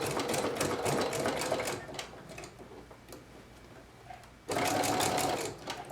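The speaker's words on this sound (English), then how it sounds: "I just set my my piece underneath and sew all the way around" Sewing machine stitching a seam on a plush ponytail piece, running in steady fast rhythmic bursts, loud and close, pausing briefly in the middle before starting up again.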